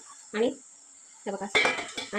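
A cooking pot set down inside a larger steaming vessel and covered with a lid, for steaming on a wood-fired stove, gives a couple of close metallic clanks and clatters, with a brief pause between them.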